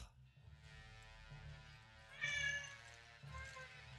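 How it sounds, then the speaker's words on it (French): A pet cat meows faintly in the background during a tabletop role-playing session, one brief higher cry standing out over low room hum and murmuring. "Oh, qui c'est qui a un chat?"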